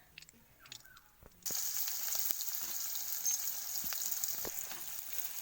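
Hot oil sizzles in a pan, starting abruptly after a quiet moment with faint clatter, then holding a steady, loud crackling hiss dotted with sharp pops throughout.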